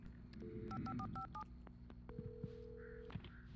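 A telephone is dialed in the video game Alan Wake. A quick run of keypad tones beeps in steady succession, followed by a longer single tone and fainter signals over a low background hum.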